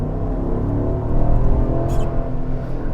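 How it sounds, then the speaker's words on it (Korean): The 6.2L V8 of a Cadillac Escalade ESV gives a deep, steady rumble, heard from inside the cabin while cruising. A low drone swells slightly in the middle, with faint road noise underneath. "이 8기통 엔진의 특유의 사운드랑 8기통 엔진의 파워"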